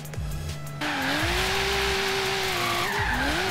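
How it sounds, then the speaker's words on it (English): Tires on a 1998 Nissan Silvia squeal loudly and continuously through a drift in Forza Horizon 3, engine revving underneath and wavering in pitch, close with no speech. "Feels quite nice to drift."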